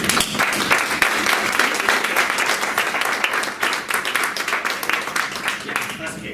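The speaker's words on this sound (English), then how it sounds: "they deserve a round of applause themselves" Dense, loud applause from an audience at the end of a scientific presentation, many hands clapping continuously and gradually thinning toward the close, with some talk mixed in.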